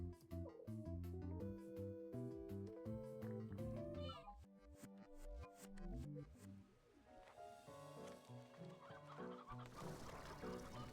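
Cats meow in the Slime Rancher 2 night market, their cries mixed in with busy game music and clucking fowl sounds that continue throughout.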